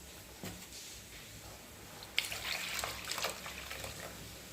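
Water splashes and trickles into a cooking pot, starting faintly and growing into a steady pour with no talking.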